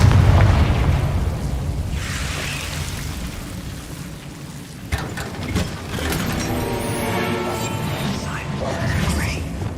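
Confringo blasting spell detonating in the video game Hogwarts Legacy, a loud boom with a rumbling, crackling burst that carries through the clip over game sound, with some voice present.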